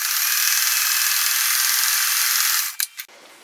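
A sewing machine chain-stitches quilt patches with a steady high whir. It runs loud and close, then stops with a couple of short bursts near the end. No voices are heard.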